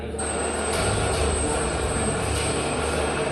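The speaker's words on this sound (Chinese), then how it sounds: "然后这个是歼20" A Chinese J-20 stealth fighter lands close by, giving a loud, continuous jet roar that stays strong and even for the whole few seconds.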